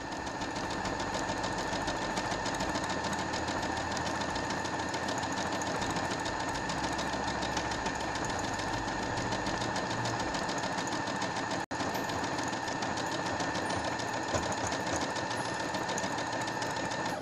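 A Brother SQ9000 sewing machine embroiders letters at full speed, a steady fast mechanical whir and needle chatter running continuously and evenly up close, with no talk over it.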